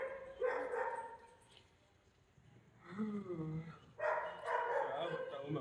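A voice imitates dogs barking, giving a few bursts of rapid woofing sounds in close, loud spurts separated by a short quiet gap.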